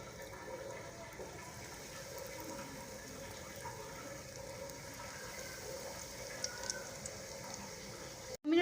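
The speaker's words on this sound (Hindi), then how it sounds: "ऑयल हमने अच्छी तरह से गर्म कर लिया है। अब हम इसमें डालते जाएंगे।" Potato donuts fry in hot oil, giving a soft, continuous fizzing sizzle that stays fairly quiet and even, with a brief louder clatter at the very end.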